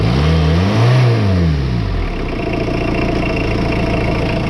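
A warm Peugeot 806 engine runs loud and close, revving briefly at first and then settling into a steady, rough idle with a dense mechanical rumble.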